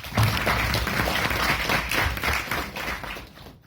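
An audience at ISB Hyderabad applauds at the start of a talk, a full burst of many hands clapping that holds steady and then thins out toward the end.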